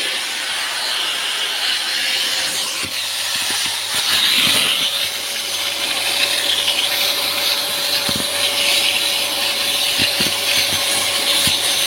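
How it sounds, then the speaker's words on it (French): A loud, steady whooshing hiss of a Parkside spray-extraction wet vacuum on a soaked seat runs throughout, with gurgling and sucking bursts as water is drawn up, plus occasional clicks. "Et après, on passe l'aspirateur."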